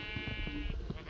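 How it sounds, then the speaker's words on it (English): A sheep gives a short, close, nasal bleat over a bed of low rustling and bumping, with no talking. "Man, I have a lot of sheep."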